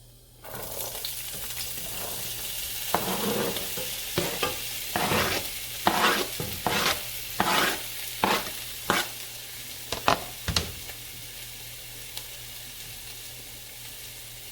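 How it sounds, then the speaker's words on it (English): Vegetables fry in coconut oil in a pot, a steady low sizzle punctuated by repeated sharp stirring and scraping strokes, close by, with no talking. "Now I'm going to go ahead and put my vegetables in the pot."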